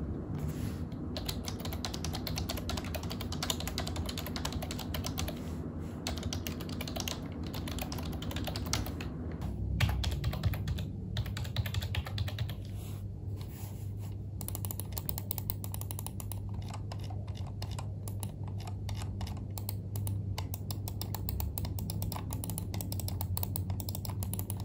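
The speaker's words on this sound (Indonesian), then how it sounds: "jadi masih ada bunyi kliki untuk setiap ketikan mouse dan keyboardnya" Steady clicking of a Xiaomi wireless keyboard and mouse (WXJS01YM) being used, rapid key taps with occasional sharper clicks, close up over a low background hum.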